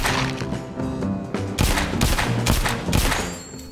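Gunshots ring out in The Walking Dead: Saints & Sinners video game as a speaker is shot out, a rapid volley of close, loud cracks over a droning musical background.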